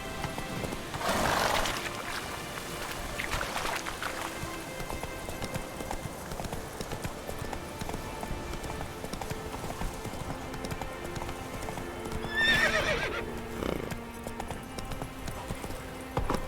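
The horse Roach gallops in The Witcher 3 with steady clip-clop hoofbeats close by, soft ambient rain-like hiss, and a couple of louder whinny or snort bursts.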